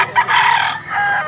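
A rooster in Mantalungon, Cebu lets out one loud, close crow that rises, holds and trails off, with no talking over it.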